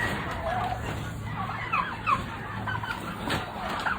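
Roosters and turkeys call on a poultry farm in Kelek, Samarqand region, with several short, bright calls scattered over a steady farmyard hum, moderately near and without talk.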